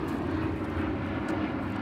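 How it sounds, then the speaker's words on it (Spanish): Aeroplane passing overhead above a small garden, a steady low droning engine rumble filling the whole stretch at moderate loudness, with no clear speech. "Ay, los aviones, Dios mío."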